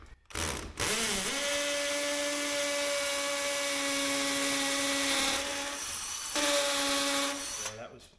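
A power drill bores into a garage bench, revving up into a steady high whine for several seconds, easing briefly, then spinning up again before stopping.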